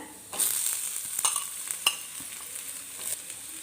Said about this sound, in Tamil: உளுத்தம் பருப்பு இப்போ எண்ணெயில் சேர்த்துக்கிறேன் பொடி பண்ண இஞ்சியை சேர்த்துக்கிறேன்